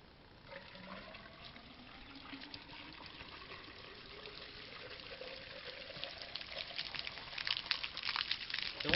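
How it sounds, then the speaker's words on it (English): Water poured by hand into a container feeding a drip irrigation setup in a home organic garden, a steady trickling fill that grows gradually louder and splashier toward the end, with no voices. "So the water that I put inside here, it is what will be used"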